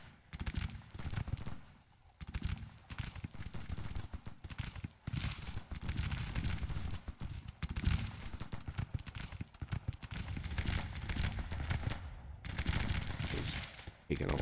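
Counter-battery artillery fire in the Civil War strategy game Grand Tactician, with repeated booming cannon shots and crackling musketry rolling on continuously amid a busy battlefield din.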